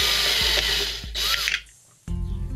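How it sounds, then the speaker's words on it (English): A stepper bit drills into metal close up in short whirring bursts with small clicks between them, then stops and leaves a brief quiet gap before a duller thump and rattle. "I think this is called a stepper bit. And should open it up gradually."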